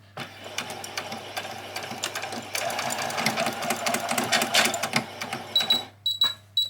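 A sewing machine stitches backwards and forwards over fabric fairy wings in quick, rattling bursts that rise and fall in intensity, close and fairly loud, with short pauses and stops near the end.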